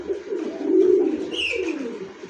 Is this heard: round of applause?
no